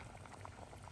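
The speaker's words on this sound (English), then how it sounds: "The cheerful sound of boiling water soon filled the air." Water bubbles at a steady rolling boil in a pot with a corn cob, a dense close gurgling that continues evenly throughout.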